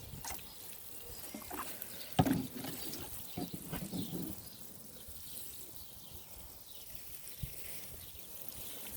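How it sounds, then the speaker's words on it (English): Snap pea plants in a garden bed are watered after Epsom salt is added, producing a splashing, gurgling pour that swells in the first seconds and then eases into a softer, steady flow. "I am going ahead and I'm going to water"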